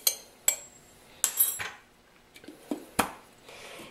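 A spoon stirring a dry herbal sleep tea blend in a bowl, sharp metallic clinks and taps at irregular intervals with soft scraping between them, close up and with no voices.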